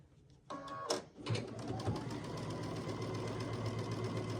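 Sewing down a line, a sewing machine starts after a few soft clicks and handling taps, then settles into a continuous fast stitching hum at close range with no talking.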